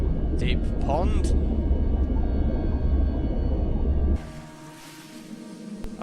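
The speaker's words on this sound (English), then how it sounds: "I like the noise of being underwater." Muffled underwater ambience from the video game Dear Esther, a deep steady rumble with a faint warbling tone that cuts away after about four seconds to a thinner, hissy, quieter wash.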